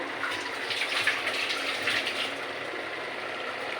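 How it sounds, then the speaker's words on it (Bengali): Water is poured into a pot of cooking meat, a continuous close gushing splash for about two seconds that then fades to a quieter trickle. "এবার আমি পরিমাণ মতন জল দিয়ে দিব।"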